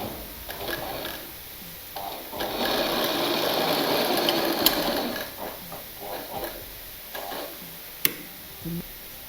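Sewing machine running fast as it stitches a small newborn baby dress, a dense continuous whir that rises and then breaks into short bursts with a few sharp ticks, close and alone with no talking.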